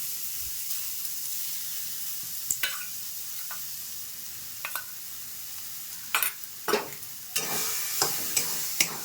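Cabbage paste goes into a hot wok and fries with a faint, airy sizzle and hiss. Sharper scrapes and spatters grow louder toward the end, and no one speaks.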